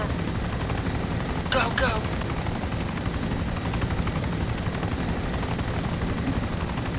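Helicopter in the Arma II combat game, a steady loud rotor and engine drone running throughout, with a short shout breaking in over it early on.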